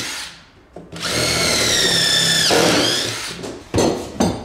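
A power drill bores a pilot hole into wood for a stair tread: a steady high motor whine that drops in pitch under load, then stops, followed by a couple of short bursts.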